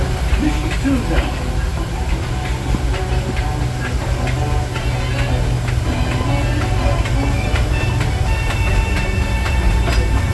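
A Disneyland Railroad steam train rolls along with a steady, loud mechanical rumble, rhythmic wheel clatter on the rails and a constant hiss, with faint voices mixed into the background.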